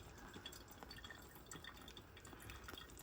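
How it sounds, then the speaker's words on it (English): Soft, steady bubbling and dripping of water for pour-over coffee in a quiet room, faint and continuous without interruption. "Listening to the water bubbling, getting ready to make your coffee"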